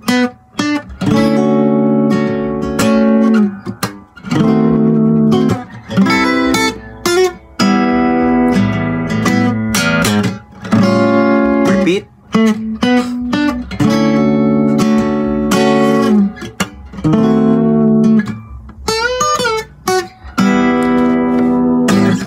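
Guitar plays the intro chords of a song, with loud strummed and picked chords in a steady repeating pattern and a few higher ringing notes, and no one speaking.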